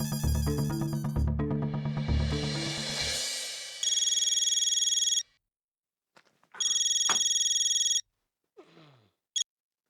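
A telephone rings in short bursts of bright electronic trills, separated by silences, after a sequence of rhythmic dial and connection tones; close and clear with no speech.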